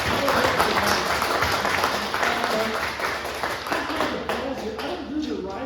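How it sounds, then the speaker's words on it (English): Audience applause at a poetry reading event, a steady wash of many hands clapping throughout, fairly close and full, with a voice or two talking over it. "Let's just clap one more time."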